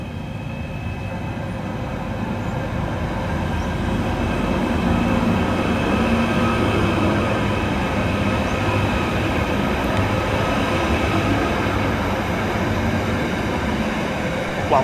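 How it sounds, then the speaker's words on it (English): Merseyrail class 777 electric unit 777-140 runs at Headbolt Lane on a service to Liverpool Central, a loud sustained rumble and hum of motors and wheels that holds steady throughout, close by with no voices. "kicking us off will be 777-140, working the 1311 Merseyrail electric service through to Liverpool Central"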